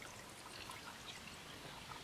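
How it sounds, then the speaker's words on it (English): Rainwater trickling and pouring steadily into a secondary rainwater diverter tank connected to a pool, a soft continuous watery splatter with no voices. "Water's coming down here, coming into here, right?"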